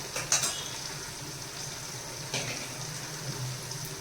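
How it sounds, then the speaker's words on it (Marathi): Onion and tomato fry in oil for chicken pulao with a soft, steady sizzle. A couple of light utensil clinks stand out near the start and middle. "आपला कांदा आणि टोमॅटो चांगला फ्राय होत आहे।"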